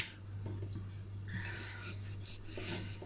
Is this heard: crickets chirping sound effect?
no